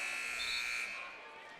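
Buzzer sounding at the end of a half in a varsity boys high school basketball game, a loud steady electronic tone lasting under a second before fading into the gym's ambience.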